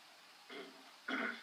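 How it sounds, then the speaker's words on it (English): Someone clears their throat twice in quick succession, close and fairly soft, against a faint steady hiss. "He's like, I gotta clear my throat."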